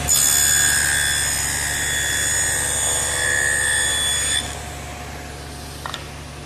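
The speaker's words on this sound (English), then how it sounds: "make some saw adjustments so I can cut the dado in the side pieces" A woodworking saw cuts a dado in wooden side pieces for a bedside table: a loud, steady high-pitched whine with a low hum beneath, which drops away sharply partway through to a quieter running hum.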